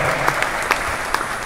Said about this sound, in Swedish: vi kan väl börja med att applådera dem